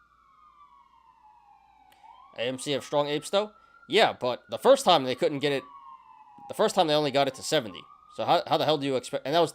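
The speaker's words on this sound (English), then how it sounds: "my apologies about the sirens" Emergency vehicle siren passing outside, a faint wailing tone that rises and falls steadily in the distance while someone talks over it almost throughout.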